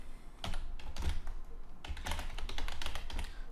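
Rapid typing on a computer keyboard, with dense clusters of close, crisp key clicks that come in bursts separated by brief pauses.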